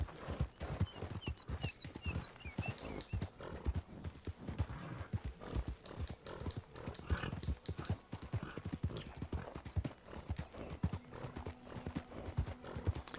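A horse gallops and jumps obstacles in Red Dead Redemption 2, giving a steady, fast run of loud, close hoofbeats throughout with a brief whinny early on.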